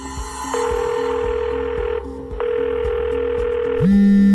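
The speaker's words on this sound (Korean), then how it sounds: "저 전화가 왜 울려?" A telephone rings in a Korean drama scene with two long electronic tone bursts separated by a short gap, then a louder steady tone near the end, all over a faint repeating pulse and without talk.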